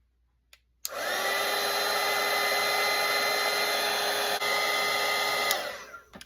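A hair dryer blows continuously to dry a watercolour painting of a Christmas tree and Grinch, switching on with a click and holding a steady, close whirring roar with a high motor whine until it cuts off.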